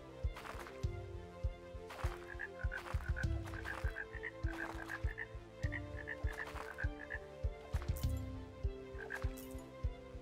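Frogs croak repeatedly in a farming video game, with rhythmic throaty calls over a layered musical soundtrack of plucked and chiming tones.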